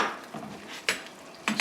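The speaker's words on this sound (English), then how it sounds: "Stir it around." Utensil stirring creamy garlic butter sauce thickened with cornstarch slurry in a pan, with a few close metallic scrapes and clinks against the pan over a soft background.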